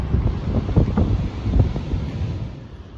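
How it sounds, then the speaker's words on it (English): Strong wind buffets the microphone on a cold Oregon beach at Bullards Beach State Park near Bandon, a steady low roar with surf mixed in, no voices. "Man, that wind is brutal out there on the beach."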